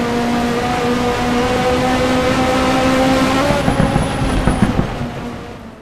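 Onboard race car engine in a virtual racing championship, a loud sustained high-revving drone that shifts pitch as it accelerates and brakes, with a brief tire squeal toward the end.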